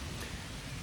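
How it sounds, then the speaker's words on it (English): Rain falls steadily at a campsite, a dense, even hiss with no distinct drops, faint and continuous. "I think I might wait for it to stop raining."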